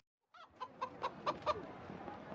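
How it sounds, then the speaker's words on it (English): A chicken in the PS1 game Gold and Glory: The Road to El Dorado clucks in a quick series of five or six short, bright clucks, close and clear, with no talk over it. "Look, Miguel, a chicken!"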